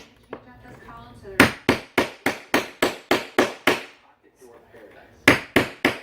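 Quick, sharp hammer taps on a chisel against floor tile sound in a fast run of about eight blows, a pause, then three more; faint talk is heard at the start.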